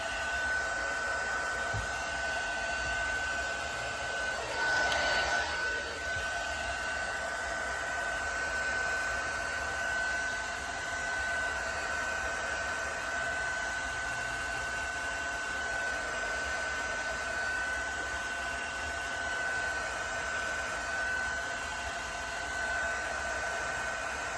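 A heat tool blows a steady, even whirr while it warms alcohol ink on a tumbler in teal, aqua, gold and black, running continuously and fairly close throughout.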